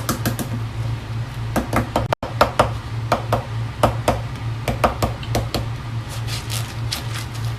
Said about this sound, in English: first, I'm going to try breaking the shells up